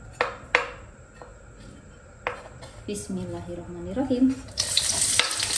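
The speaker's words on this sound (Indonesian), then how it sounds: "Sekarang kita masukkan bawang merah bawang putih karena minyaknya sepertinya sudah panas" Shallots and garlic hit hot oil in a home kitchen, with a few sharp clinks of utensils, brief scraping, and a sudden rising sizzle near the end; a voice speaks briefly over it.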